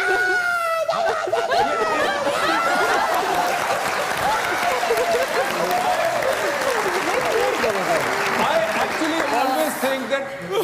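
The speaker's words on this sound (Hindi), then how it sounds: "तो आप ताली बजा दें हाँ।" A studio audience at a televised comedy talk show claps hard and continuously, with cheers and shrill whoops rising over the applause before it thins out near the end.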